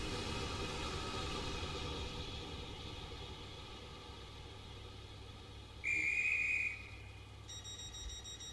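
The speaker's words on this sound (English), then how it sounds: "So if you blow in the whistle," A train guard blows a whistle in the railway game SCR, a short, shrill blast that rings out once over a low rumbling train background, followed by a fainter high tone.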